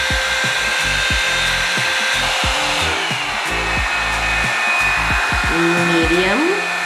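A Revlon One Step hair dryer running on its cool setting gives a loud, steady blowing whir with a whining tone, joined by knocks and handling thumps throughout.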